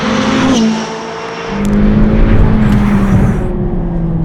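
A McLaren 570 GT's engine pulls hard in third gear on a wet road, heard from inside the car, a loud steady drone rising in pitch after a brief dip, with no voices over it.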